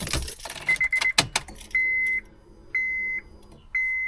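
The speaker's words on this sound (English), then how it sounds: "Fuel pump's priming, everything seems to be good." Early on, metallic jangling and clicks come from a turbo Honda Civic. Then its electric fuel pump primes in three short, even buzzing whines about a second apart, close and steady against a quiet background.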